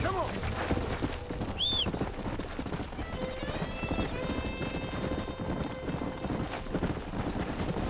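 Horse hooves clip-clopping at a steady trot in a Red Dead Redemption scene, a horse whinnying briefly early on, with low wind and faint game background underneath.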